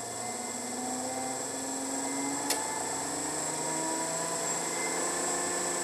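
A brushless DC motor under three-Hall-sensor control spins steadily with a thin high electrical whine and a faint hum, one brief sharp tick partway through, and no voices.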